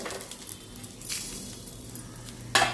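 Four chillies frying in oil in a pan for a pirandai thuvaiyal, a soft, close crackle and patter with a brief sharper sputter near the end.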